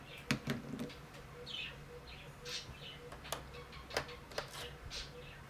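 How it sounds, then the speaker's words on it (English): Quiet indoor room where small bird chirps and sharp ticks sound faintly and intermittently over a low hum, several short tweets spread across the stretch. "That bird noise was annoying me."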